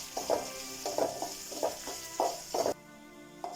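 Green chillies dropped into garlic and ginger frying in hot oil, a steady sizzle under periodic stirring scrapes, close and moderately loud, cutting off abruptly near the end.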